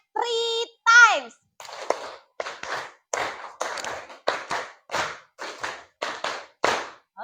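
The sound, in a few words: group clapping in a counted rhythm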